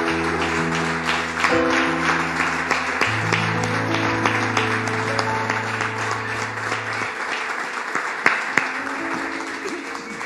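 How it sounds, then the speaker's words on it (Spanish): Applause fills a church congregation, a steady dense wash of clapping throughout while sustained organ or keyboard chords play underneath, loud and close. "Démosle un aplauso al Señor, hermano."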